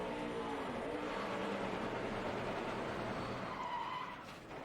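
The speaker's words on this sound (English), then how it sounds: "That was unbelievable wheel hop getting down in that corner." A 2009 NASCAR stock car hopping its wheels as it downshifts into a corner makes a loud, continuous skidding and scrubbing roar that holds steady, then eases off near the end.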